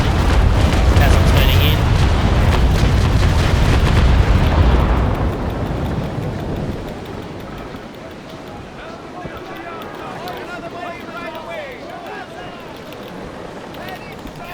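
In a naval sailing-warship video game, cannons fire a broadside: a loud, booming roar of several overlapping shots for about five seconds, then fading into rumble and water sounds while someone talks over it.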